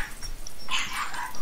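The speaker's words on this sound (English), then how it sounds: "Thunderstorming now. No wonder my dogs are going crazy." Several dogs bark during a thunderstorm, giving a brief burst of yips and barks over a noisy background.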